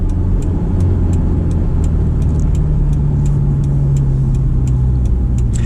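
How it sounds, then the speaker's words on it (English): A Honda S2000 sports car accelerates with a loud, steady engine drone heard from inside the cabin, the pitch holding and then slowly rising, while a regular faint ticking runs throughout. "so we'll get a little acceleration here."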